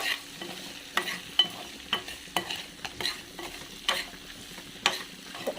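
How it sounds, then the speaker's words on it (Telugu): Curry with garam masala and rock salt stirred in a pan, a spoon scraping and knocking against the metal in irregular strokes over a soft background sizzle, close and moderately loud. "మొత్తం ఒకసారి అయితే మంచిగా మిక్స్ చేసేసుకున్నాము"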